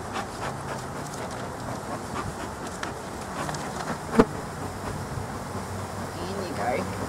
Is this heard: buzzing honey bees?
yes